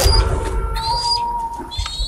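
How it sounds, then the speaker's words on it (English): A bird in the video game Ghost of Tsushima calls with thin, high whistled notes over a steady low ambient rumble and a soft background tone, with no talk. "Take out that bird."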